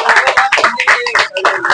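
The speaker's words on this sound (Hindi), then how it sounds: "जोरदार तालियों में इस्तकबाल कीजिए।" A short, dense burst of audience applause at a poetry gathering in Mumbai, many hands clapping loudly and close together for under two seconds.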